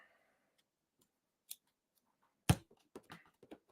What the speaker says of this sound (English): We're going to need some scissors.